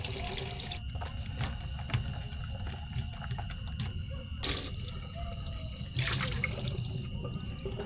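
Dishes being washed under a running tap outdoors by a river in Norzagaray, Bulacan, with steady water flow and a few louder splashes and clatters; no talking.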